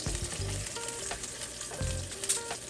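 Fish pieces fry in hot oil in a pan, a steady close sizzle with crackling bursts and brief low clatter of the pan or utensil.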